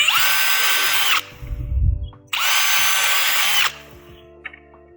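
A power drill whines at high speed in two loud bursts, with a grinding chew into wood between them and quiet clicks after.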